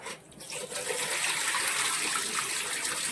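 Plain tap water gushes steadily over cauliflower being washed for gopi manjurian, a loud, continuous close rush of running water with no talk.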